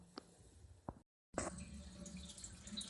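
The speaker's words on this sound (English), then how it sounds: "the tap is open, just draining into a great big stainless steel pot" Engine coolant drains from an open tap into a large stainless steel pot, a quiet, steady trickle of liquid after a short break, with faint drips before it.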